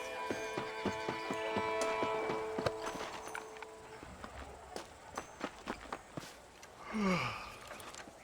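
Horse hooves clip-clop in an even walking rhythm in the Red Dead Redemption video game, following soft tonal game sounds and ending with a short breathy snort.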